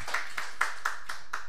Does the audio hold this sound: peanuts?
no